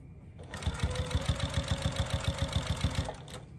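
A sewing machine stitches a minky baby blanket in a short, steady burst of rapid rhythmic thumps, close and clear, starting and stopping cleanly with no talking.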